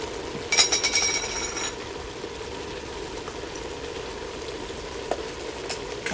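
Homemade spaghetti sauce sizzles steadily in a frying pan as it is stirred, with a brief burst of scraping clatter near the start, then a continuous low frying hiss, no talking.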